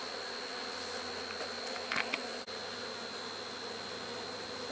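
A dense, continuous hum of many honey bees buzzing around an opened hive during an inspection, steady and even, with a brief brush of handling noise midway.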